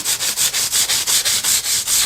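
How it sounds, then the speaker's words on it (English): A sanding block, held at an angle, scrapes back and forth along the fret edges of a Danelectro 67 guitar in quick, even strokes, about ten rhythmic rubs up close, loud and gritty. "I get the sanding block, a bit of an angle, and just rub the edge of the frets down"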